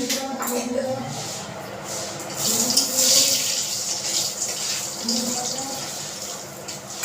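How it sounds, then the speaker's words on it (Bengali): Curry poured into hot oil in a pan hisses with a loud, rushing sizzle that swells and then settles into a steady fry, while someone talks over it. "তরকারিটা ঢেলে দিচ্ছি।"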